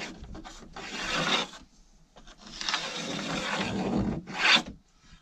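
A tool scribes a line along the end of a plywood panel lining a narrowboat galley, making rasping scrapes in three bursts, a long one in the middle and a short, louder one near the end.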